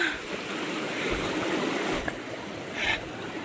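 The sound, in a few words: stream near Daarji waterfall being crossed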